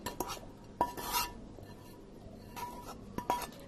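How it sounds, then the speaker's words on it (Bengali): Fried onions are scraped from a pan onto a plate while cooking Bangladeshi ilish vorta, giving a few soft metallic scrapes and light clinks of utensil against pan in quiet bursts, with faint sizzling between them and no voices. "পেন থেকে পেঁয়াজগুলোকে এভাবে করে নামিয়ে প্লেটে নিয়ে নিচ্ছি"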